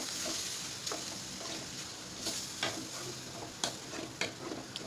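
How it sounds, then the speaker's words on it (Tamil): A handful of curry leaves is stirred into hot oil for a spicy kuzhi paniyaram mixture, giving a steady sizzle and crackle under repeated spoon scrapes and taps against the pan, close and without talk. "அடுத்து ஒரு கருவேப்பிலை, ஒரு கைப்பிடி, எல்லாத்தையும் நல்லா கலந்து விட்டுக்கோங்க."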